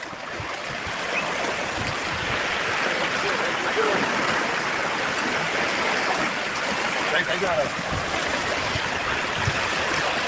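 Floodwater of the rain-swollen Thamirabarani river rushing past the Alwarthoppu bridge, a steady broadband roar of fast-flowing water heard up close throughout, with a few faint words spoken briefly over it.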